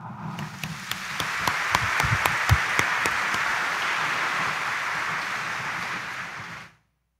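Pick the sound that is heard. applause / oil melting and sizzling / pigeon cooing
applause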